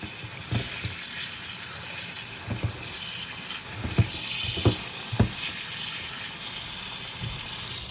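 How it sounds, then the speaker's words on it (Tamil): Drumstick leaves are washed in water, with soft sloshing and splashing close by and several sharp knocks and clatters of the leaves and container at irregular moments. "இப்போ வந்து இதை வந்து தண்ணியில் கழுவி வடியை விட்டுட்டு"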